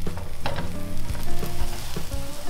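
A ham, cheese and tomato French toast sandwich sizzles loudly in a hot pan, a busy crackling hiss broken by a few sharp clinks and scrapes.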